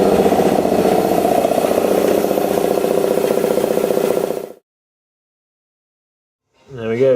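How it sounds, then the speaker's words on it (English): A compressor-driven pneumatic air tool cuts through metal on a Land Rover Defender 127/130 restomod, a loud, rapid rattling buzz that runs for about four and a half seconds, stops dead, then starts again after a short silence. "I'm going to try and finish the rest off with the air tool."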